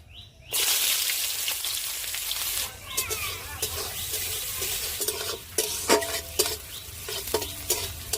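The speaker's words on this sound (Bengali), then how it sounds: "এবারে দিয়ে দেবো পেঁয়াজ" Onions hit hot white oil already holding cardamom, cinnamon and cloves, setting off a sudden loud, steady sizzle. It then breaks into choppier frying crackle and scraping stirs from a pan.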